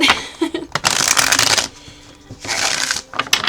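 Tarot cards being shuffled in quick riffling bursts, two long papery flurries separated by a short pause, close and fairly loud with no talking.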